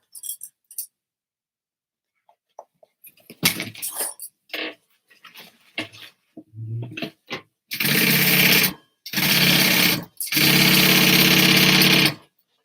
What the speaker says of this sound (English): And we're going to sew that shut.